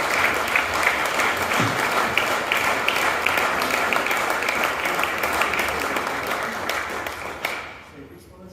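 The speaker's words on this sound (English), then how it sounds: "Give them a big round of applause." Audience applause at the National Healthy Housing Awards 2023 ceremony as award winners come up, a dense steady clapping that holds for several seconds, then fades near the end with a brief vocal sound.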